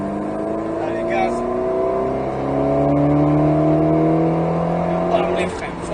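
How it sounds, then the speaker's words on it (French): Alpine A110S race car with a 292 hp engine accelerating at full throttle on the Nogaro circuit, a loud sustained engine roar with rising pitch through the gears, heard from on board. "Allez, gaz à fond."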